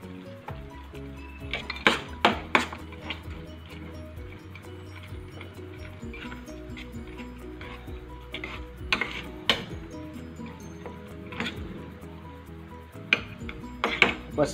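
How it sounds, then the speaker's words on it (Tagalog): Bacon stirred in a pan for carbonara: close metallic clinks and scrapes of a utensil against cookware come in scattered clusters over a faint background hiss, with no talking. "Then, ilagay natin yung kalahati ng ating bacon. Then, haluin lang natin siya."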